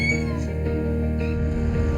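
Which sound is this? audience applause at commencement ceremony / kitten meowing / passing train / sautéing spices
kitten meowing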